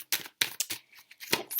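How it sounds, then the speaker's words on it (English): Oracle deck cards shuffled by hand during a tarot reading, several quick riffling bursts with short pauses between them, close and fairly quiet, with no talking. "I've got my Oracle deck, so I'm just going to shuffle it."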